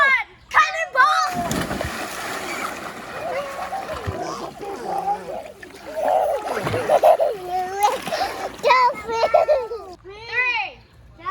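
A child cannonballs into an above-ground pool, making a big splash followed by sloshing water, amid lively children's and adults' voices talking and calling out before and after.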